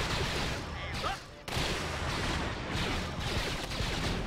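Artillery barrages pound continuously in a Star Wars: Empire at War Fall of the Republic mod battle, with dense overlapping blasts and gunfire filling the whole stretch at steady loudness.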